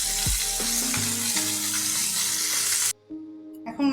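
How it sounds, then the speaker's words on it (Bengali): Small kajoli fish frying lightly in oil for a fish curry, a loud bright sizzle with clinking utensil hits that cuts off abruptly near the end, followed by a brief quieter gap and a short return of sound. "এই মাছগুলো এইভাবে হালকা একটু ভেজে নিতে লাগে।"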